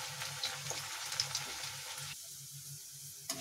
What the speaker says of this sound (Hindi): इन्हें अच्छे से फ्राई होने दूंगी मैं